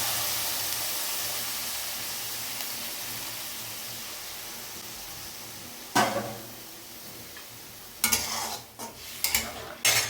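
Hot water poured into a pan of fried bitter gourd and potatoes, cooking for a Bengali chorchori: steady broadband sizzle and hiss, then sharp bursts of bubbling and stirring clatter near the end.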